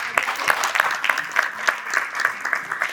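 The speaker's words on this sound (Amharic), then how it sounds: "ሞቅ ማለት ጭብጨባ" An audience at an Adwa commemoration claps in warm, steady applause, the hand claps rapid and evenly spread, fairly loud and close throughout.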